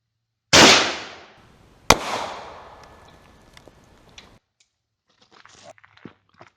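A rifle fires a single 7.62x39mm 123-grain full metal jacket round at a U.S. M-84 PASGT Kevlar helmet, one sharp, loud report that rings out and decays, followed by a second crack and scattered faint rustling.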